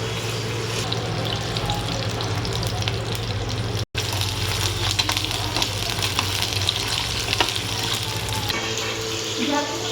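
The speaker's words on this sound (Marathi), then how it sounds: "स्लो गॅसवर याला हे करून फ्राय करून घेऊ." Brinjal frying in a pan over a low gas flame, giving a constant close sizzle with light crackles and stirring scrapes and a brief cut in the sound partway through.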